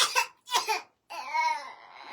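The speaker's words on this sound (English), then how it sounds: "his cough is bad" A child gives two short, harsh coughs, then makes a longer whimpering, voiced sound that is close and moderately loud in a quiet room.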